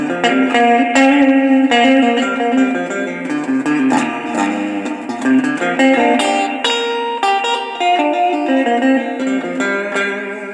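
An electric guitar plays chords and notes through an Airline 62-901 reverb unit set to treble, drenched in a bright, splashy reverb, loud and sustained throughout with no talking.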